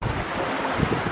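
Steady wind buffeting on a beach in Antigua, a constant loud rushing roar with faint surf underneath and no voices.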